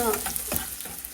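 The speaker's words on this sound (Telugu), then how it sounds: "మనం ఆనియన్స్ ఫ్రై చేసుకుందామండి" Chopped onions frying in oil in a home kitchen pan for palak paneer, a steady sizzle with brief stirring scrapes, close and moderately loud, no talk.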